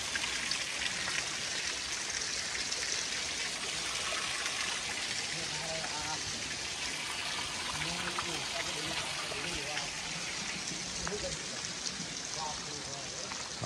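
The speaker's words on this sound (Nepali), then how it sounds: "यहाँ ल 5वटा धारामा सर्र पानी आइरहेको छ" Water gushes steadily from five stone spouts at the Kageshwari Mahadev temple, a continuous splashing hiss that runs alone without pause at moderate distance.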